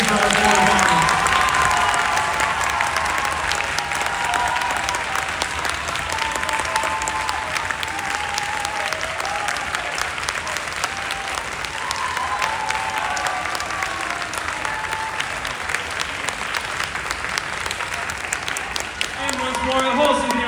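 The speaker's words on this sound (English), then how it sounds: "one more round of applause, please, for our four." Sustained, loud audience applause at a high school senior concerto concert honoring four soloists, a dense wash of many hands clapping continuously with some cheering, lasting the full twenty seconds.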